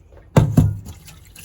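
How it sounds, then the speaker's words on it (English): Wildcrafted Jamaican sea moss is rinsed in water: two quick splashes land close together, then a short fading trickle of drips. "Now we're gonna give it another thorough rinse and throw this away."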